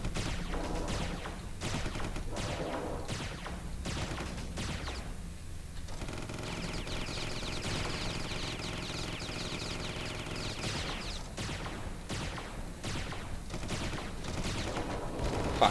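Rapid weapon fire in Starsector space combat, repeated bursts of autocannon-like shots in rhythmic volleys with a sustained stretch of continuous firing in the middle, fairly faint and without talk.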